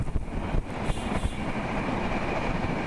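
A steady rumble and rattle fill the inside of a moving passenger train on a journey across Bangladesh, with a few faint clacks near the start and no talk.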